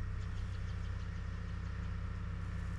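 A tractor engine idles steadily while warming up at a wet, muddy building site, a low rumbling throb with a regular pulse, close and constant throughout with no voices.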